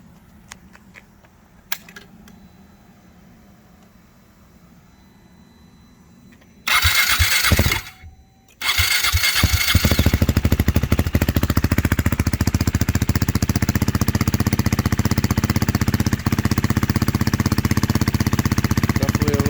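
KTM Duke 390, Husqvarna Svartpilen or Vitpilen motorcycle with an $11 aftermarket exhaust and removable silencer cranks after a quiet stretch, briefly catches, stops, then fires and settles into a loud, steady, raspy idle that lasts to the end.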